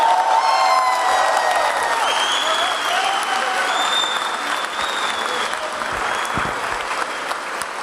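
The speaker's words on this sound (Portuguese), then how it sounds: "Eu nem pedi você para aplaudir, por que você aplaudiu?" A church congregation applauds spontaneously during a preacher's sermon, a dense, sustained wash of clapping with some cheering and whoops, loud and steady throughout, tapering slightly toward the end.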